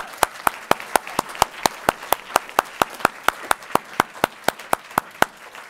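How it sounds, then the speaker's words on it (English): Sparse, evenly spaced individual claps ring out one after another at an awards luncheon, a small scattering of hands rather than a full crowd, steady and fairly close. "Can we just get a round of applause for that?"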